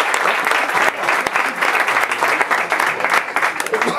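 Audience applause at a book presentation, a dense, steady burst of many hands clapping that fills the room for about four seconds with no talk over it.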